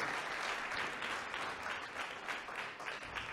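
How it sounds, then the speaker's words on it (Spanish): A church congregation applauds for Jesus, a short, fairly faint burst of many hands clapping together at an even level. "Denle un aplauso a Jesús"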